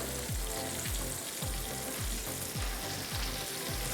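Chicken sizzles and crackles steadily in hot oil, a dense close frying hiss with bubbling pops, no voices.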